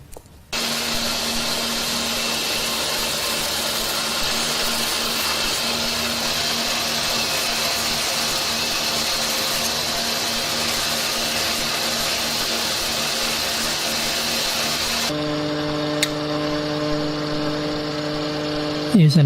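A loud, steady machine whine of a grinder shaping paired knife scale halves, running continuously, dense and broadband, then shifting to a tonal hum near the end.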